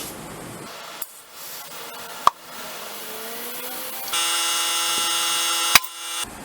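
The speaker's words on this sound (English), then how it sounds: "Now that the tire is on the wheel, we can go ahead and seat the beads. I got my air compressor set up" An air compressor pushes air into a tire mounted on a wheel on a Harbor Freight manual tire changer to seat the beads, first a rising hiss, then a loud steady rushing blast near the end, broken by sharp pops.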